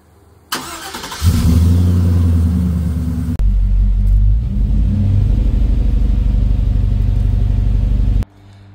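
An LS-swapped car's engine rumbles loud and close while being driven, a deep steady drone that swells as it revs up, briefly drops and surges again, then stays level before cutting off abruptly near the end.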